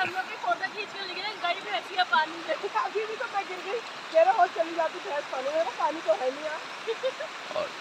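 A river near a village in Chaukhutiya, Almora, Uttarakhand flows with a steady broadband rushing hiss, while people talk continuously over it.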